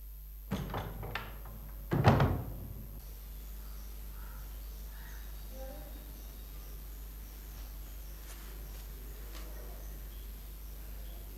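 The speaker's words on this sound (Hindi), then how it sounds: "दरवाजा बंद कर दो" A door is shut inside a quiet office room: a couple of soft knocks, then one louder, close thud, followed by near silence with faint background hum.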